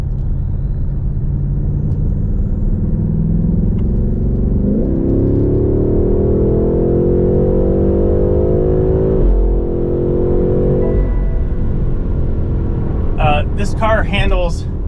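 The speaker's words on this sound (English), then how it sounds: "The acceleration on this car, you put it in sport mode," A BMW M8 Competition accelerates in sport mode with a deep, loud engine drone that climbs through the revs, drops briefly at a gear change and then rises again, heard from inside the cabin, with someone speaking near the end.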